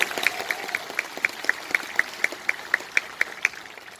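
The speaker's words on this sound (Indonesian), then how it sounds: "Kita berikan tepuk tangan juga." Audience applause at the NasDem party's national working meeting (Rakernas), a dense steady patter of many hands with a few sharper claps standing out at a regular pace, filling the hall without any voices over it.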